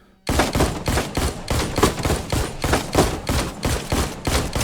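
Rapid, evenly spaced gunshots from the Walking Dead Onslaught video game begin abruptly and continue as a steady loud burst of repeated shots for several seconds.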